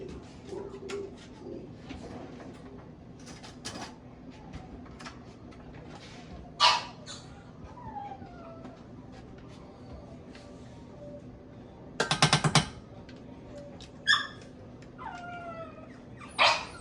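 Hungry dogs give a few sharp, separate barks and yelps over a faint outdoor background with birds cooing, the bursts spread out and moderately close.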